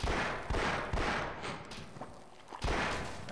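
Enemy gunfire in Half-Life: several separate sharp shots arrive about half a second to a second apart, fairly faint and echoing, with a quieter gap before a final burst.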